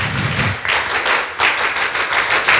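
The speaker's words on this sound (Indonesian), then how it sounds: "Tepuk tangan untuk kita semuanya ya." A group claps hands together at Penataran Museum, a loud rhythmic volley of close, pulsing bursts that keeps going throughout.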